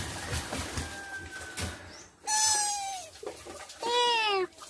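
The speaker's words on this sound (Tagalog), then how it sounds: "Ang pusa din pala to eh" A caged cat in Quezon province gives two clear, drawn-out meows close by, with quieter rustling and faint bird-like chirps in the background.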